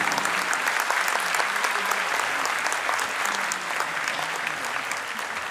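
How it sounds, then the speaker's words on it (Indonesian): Concert audience clapping in a large hall, a steady, dense burst of applause that holds at even loudness for several seconds without talk. "Mari kita berikan tepuk tangan yang paling meriah untuk seluruh pendukung konser malam hari ini."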